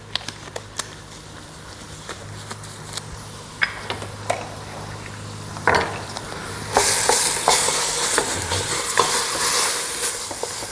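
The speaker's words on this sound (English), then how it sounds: "you're going to mix the beef in there with the hot pepper mixture" Ground beef stirred into a hot pepper mixture in a pot, with irregular spoon scrapes and knocks over a faint sizzle that grows louder and hissier toward the end.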